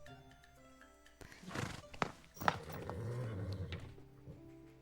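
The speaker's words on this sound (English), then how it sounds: "Raphael pulls me onto the horse and Reddy takes off like a streak of red" Horse in the Love and Deepspace video game whinnying and clattering off at a run, a loud neigh and sharp hoof thuds rising over a soft music bed, then a steady galloping rumble.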